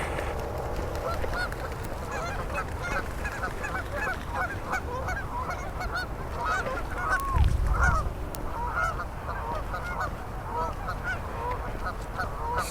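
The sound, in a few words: ducks squabbling on a dam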